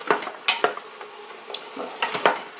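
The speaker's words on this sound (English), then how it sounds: "I'm just going to stir that up" Organic Yukon Gold potatoes stirred in an Instant Pot on sauté, giving a few separate scraping clinks of a utensil against the metal pot, close and fairly quiet.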